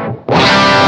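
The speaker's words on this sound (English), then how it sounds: "it makes quite a nice echo sound in the effects loop" Electric guitar played through an Echosex 2 echo unit in an amp's effects loop: a loud, distorted chord rings out after a brief dip, sustaining with a smeared repeating echo tail.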